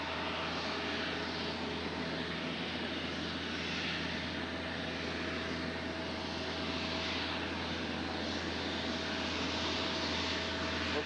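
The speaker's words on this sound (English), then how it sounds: "Let's take a look at this little Embraer." A small Embraer jet at Nashville airport gives off a steady, distant engine whine and roar that holds constant throughout, with no talking.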